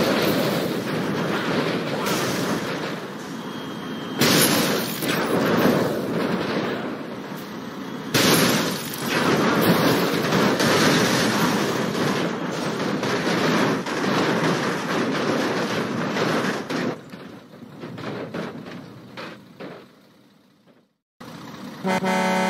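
A train rumbles past in a sustained loud roar with a horn tooting partway through, and the noise cuts out abruptly near the end.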